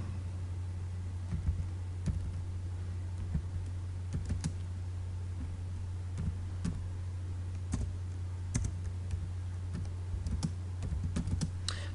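Keys clatter on a computer keyboard during a touch-typing lesson, with short bursts of clicks in an uneven rhythm over a constant low electrical hum.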